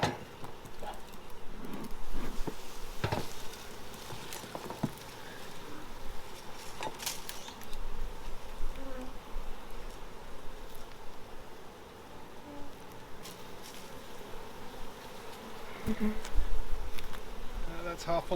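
Honey bees buzz around an opened beehive with a flow super during a hive inspection, a dense close swarm drone rising and falling, with occasional bees zipping past the microphone and light handling knocks.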